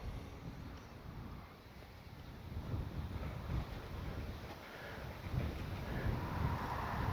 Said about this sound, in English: That wind is going strong enough against that airframe to give me lift.